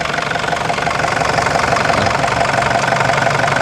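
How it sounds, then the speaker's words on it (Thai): A pickup truck engine runs steadily close by, a loud, even idling rumble with a slight knocking texture and no talk over it. "ฟังเสียงเครื่องนะครับ"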